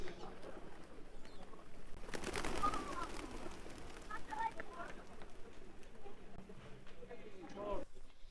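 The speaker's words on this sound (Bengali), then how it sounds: "আর এখানে দেখুন কবুতর" Pigeons cooing in the cold at Hazratbal mosque in Srinagar, soft low calls spread over several seconds beneath steady talking, with a brief burst of flapping or bustle partway through.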